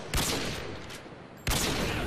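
Gunfire shooting through a wall in the video game Modern Warfare 2 on the Reefs map, with two sharp loud bursts, each trailing into a roar, about 1.3 seconds apart.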